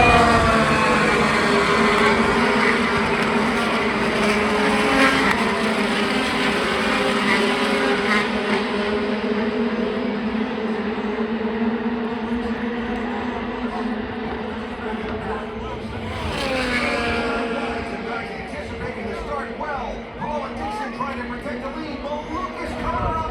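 IndyCar race cars roaring around the Indianapolis 500 oval, a steady loud engine drone with passing swells, under continuous commentary.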